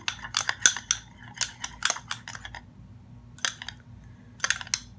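A spoon clinks and scrapes against a bowl while mixing aloe vera gel scrub ingredients, rapid bursts of sharp taps in quick clusters separated by short pauses, close and alone.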